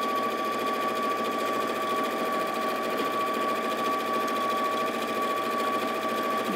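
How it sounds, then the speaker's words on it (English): An Elna 780+ sewing machine stitches a cushion cover in one steady, continuous run, its close, even motor hum and fast needle rhythm carrying on without a break. "And literally sew all the way around."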